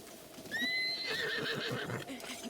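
A horse whinnies in Zelda: Breath of the Wild, a bright rising-and-falling neigh about a second long, heard up close over soft in-game clip-clop and ambient game sound.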